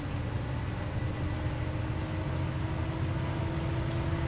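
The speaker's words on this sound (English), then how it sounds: "It's a struggle with this locomotive, it seems like." The SD60F diesel locomotive on Marias Pass in Train Simulator 2019 drones with a steady, heavy engine rumble under load, continuous and close with no talk over it.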